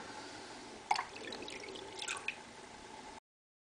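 Water running and dripping while monarch butterfly rearing cages are rinsed, a steady wash with a few splashy drips and sloshes before it cuts off abruptly.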